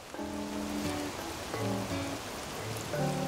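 Steady rain patter falling in Animal Crossing: New Horizons, a continuous even wash of drops with soft musical tones layered over it at intervals.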